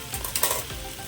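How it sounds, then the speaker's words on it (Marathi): Bitter gourd fries in a pan with a loud close sizzle while being tossed, a few quick bursts of crackle and scraping as the pieces shift. "हे बघा, हे असं कारलं असं छान टॉस करून घ्यायचं."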